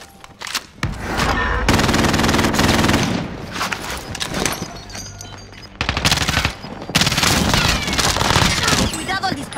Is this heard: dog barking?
no